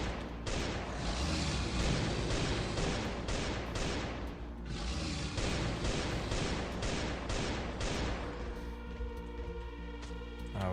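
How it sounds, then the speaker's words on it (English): Shotgun fire in the survival game Last Day on Earth, a run of loud, repeated blasts spaced a fraction of a second apart within a dense, noisy fight that thins out near the end. "Let's use the shotgun while we can."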